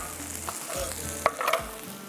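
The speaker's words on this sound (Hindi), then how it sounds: "जब तक ये फ्राई हो रही है" Food fries in a pan with a soft steady sizzle punctuated by a few brief stirring scrapes and clinks, close and fairly quiet, with no voices.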